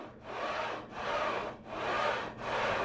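A smith machine bar slides back and forth in four smooth, rhythmic strokes, each a rasping, grinding swish with brief pauses between.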